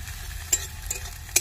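Ginger, garlic and chili paste frying in a pan, a soft steady sizzle broken by two quick scraping stirs, heard close and alone.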